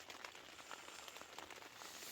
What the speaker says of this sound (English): It's bucketing down now though.